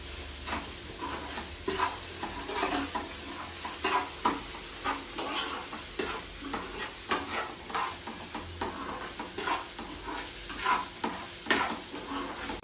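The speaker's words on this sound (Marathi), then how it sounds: "आणि सुरमई देखील आपली इकडे फ्राय होते." Surmai fish fries in a pan with a dense, continuous sizzle and spatter over a higher gas flame, close and steady throughout, with faint occasional crackles and no voices.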